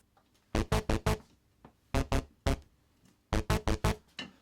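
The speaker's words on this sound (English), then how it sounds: "So this is kind of like a bass riff, and this is what it sounds like just from the synth itself." A short synth bass riff plays alone, straight from the synth and shaped by its filters: clusters of punchy, plucked notes in quick groups of three or four, separated by brief pauses.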